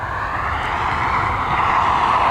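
An Emirates Boeing 777 airliner descends toward Dublin Airport, its jet engines producing a steady, loud broadband roar that slowly builds, with no other sounds standing out.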